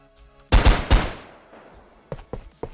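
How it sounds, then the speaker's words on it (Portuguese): Gunfire from a weapon in an Unreal Engine 4 shooter with a physics-based reload, a loud burst of several rapid close shots, then three quieter separate shots after a short pause. "então agora é só a gente pegar aqui, dar uns tiros"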